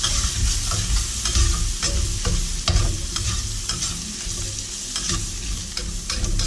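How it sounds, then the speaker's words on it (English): Peppers being stirred in a hot pan of beef stroganoff, with steady close sizzling and frying, scraping utensil strokes and intermittent clacks across the pan, with no talking. "put my peppers in there. I'll give that a stir."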